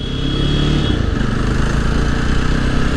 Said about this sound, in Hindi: बाइक चल चुकी है, देख सकते हैं आप।